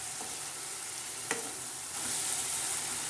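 Fenugreek leaves and moong dal sabzi frying in a pan while being stirred, a continuous close sizzle with a sharp scrape of the spoon partway through and a brighter hiss toward the end.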